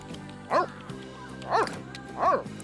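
Dog in The Sims 3 game barking three times at an even spaced rhythm, fairly clear over a soft steady background tone.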